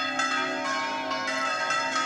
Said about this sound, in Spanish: Se escuchan las campanas que nos están acompañando.